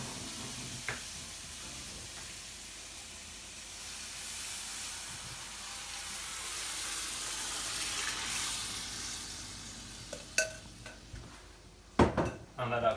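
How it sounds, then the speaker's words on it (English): Red lentils and coconut stock go into a hot cooking pan, bringing a soft continuous hiss and simmer, followed near the end by a few sharp clanks of utensils against the pan. "now we're going to add the red lentils and the coconut stock that Neil just made"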